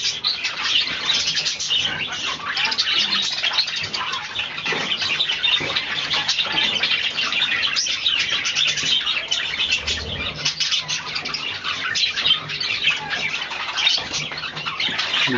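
Budgerigars chirp and twitter continuously indoors, a dense, bright stream of fairly loud chatter with occasional wing flutters, no one speaking over it.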